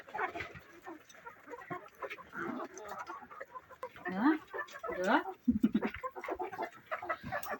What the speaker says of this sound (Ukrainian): Кукаряки.